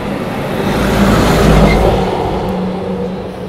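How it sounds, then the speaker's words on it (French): A truck passes close by on the road, a loud, broad rumble that swells and then fades over a few seconds, with no talking. "Alors attendez, un camion qui va passer donc on va juste rien dire."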